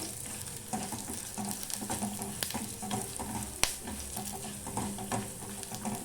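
Whole spices (fennel seeds, red chilies, peppercorns, cloves and cinnamon) are dry-roasted in a pan over a low gas flame, giving a soft steady crackle with scraping stirs and an occasional sharp tap of the utensil.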